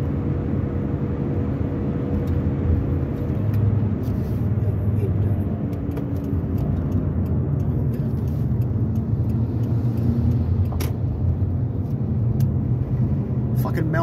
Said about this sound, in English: Fucking mail truck. Fucking with his lights on, fucking passing me.